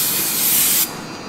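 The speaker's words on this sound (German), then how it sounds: "du sprühst rum, als würde das ein Oldtimer sein" Aerosol spray hissing steadily onto a VW car's gearbox, a loud close continuous burst lasting under a second before cutting off abruptly.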